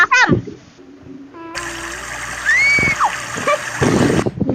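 Water splashed onto a person, a sudden burst of splashing and dribbling amid excited voices, with a child's squeal and people talking before and during it.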